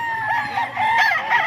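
A rooster crows loudly and close by at an early-morning chicken market in Bocaue, with other fowl clucking and crowd noise around it.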